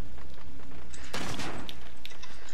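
Gunfire in the video game Modern Warfare bursts out in one loud, close blast of shotgun fire. Dense game noise runs beneath it and continues afterward.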